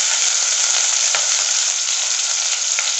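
Chopped garlic and green chillies fry in a hot pan for roadside-style chicken fried rice, giving a steady, loud, even sizzle with a few faint stirring clicks and no voices.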